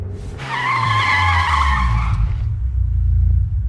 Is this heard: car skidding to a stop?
yes